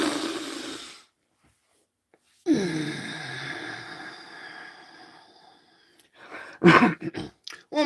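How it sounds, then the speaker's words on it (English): A long deep breath drawn in through the nose, held, then let out slowly, close and breathy with a pause of silence, followed by a few sharper breath sounds. "nice long deep breath all the way in through your nose. Hold it for a couple of seconds and exhale nice and slow."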